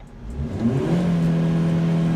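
Inside a Maruti Victoris with the windows down, the engine is revved up toward 5000 RPM, its smooth hum rising in pitch over about a second and then holding a steady, refined drone at close range.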